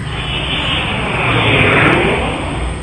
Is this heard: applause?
no